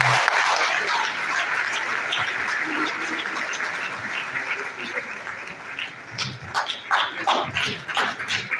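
An audience at the Ahmadu Bello University Alumni Association's annual general assembly applauds a guest lecturer. The clapping is loud and sustained, then thins and fades toward the end.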